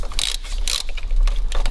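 Quick bursts of ratchet clicking as a bolt is loosened from an engine mount on a Dodge Grand Caravan, three short close clattering runs separated by brief pauses.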